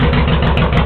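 A Honda VTX1800 motorcycle with the pair valve removed idles loudly and close, giving a short steady engine rumble with no voices.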